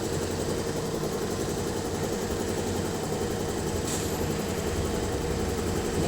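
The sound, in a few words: motorcycle engine idling after ECU remap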